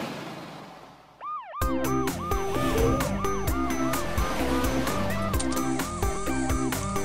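A cartoon police car's wailing siren rises and falls repeatedly over an upbeat cartoon music track, loud and continuous.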